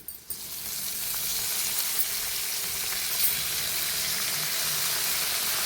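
Curry leaves frying crisp in hot oil in a pan along with garlic for a puffed-rice snack mix, a steady, close, even sizzle that runs unbroken throughout, with no talking.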